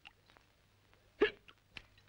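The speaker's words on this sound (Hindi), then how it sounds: "ये लिफ्ट मैन हिचकियां क्यों ले रहा है?" A lift man gives a few sharp hiccups, spaced irregularly and fairly close, in an otherwise quiet room.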